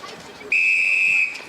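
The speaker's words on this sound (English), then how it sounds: "as the first whistle goes." An umpire's whistle starts a netball match between Albury Tigers and Lavington Panthers, one steady, loud, high blast held for about three quarters of a second over faint crowd noise.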